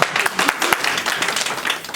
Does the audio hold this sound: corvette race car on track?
no